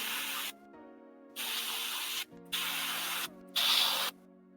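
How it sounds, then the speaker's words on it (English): Spray paint hisses in four bursts of about a second each, with short pauses between, as green paint is sprayed inside a tabletop terrain well. "So spraying it up on the inside."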